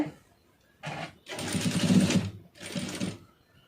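Sewing machine stitching a folded fabric hem, running in three short bursts of steady whirring with brief pauses between, close and fairly loud.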